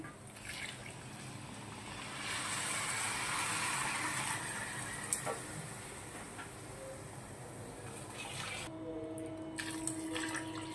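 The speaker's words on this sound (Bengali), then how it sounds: "দু বল জল দিয়ে দিলাম, যতটুকু পরিমাণে চাল ছিল।" Hot water is poured into a pot of frying rice and lentils for khichuri, a soft hissing, trickling rush that swells and fades over several seconds, faint and close, followed by quieter kitchen sounds.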